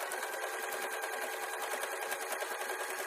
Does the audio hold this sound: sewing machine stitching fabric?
yes